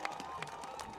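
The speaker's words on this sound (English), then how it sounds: "As you hear the music play and the crowd cheering" A crowd cheers and claps at a men's rugby match between Army and the University of Arizona. The roar is steady and fairly distant, with scattered sharp claps through the short burst.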